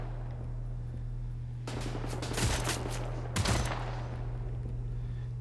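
Gunfire in Wolfenstein: The New Order during a bridge battle, two loud bursts of shots about a second apart over a constant low background drone, no talking.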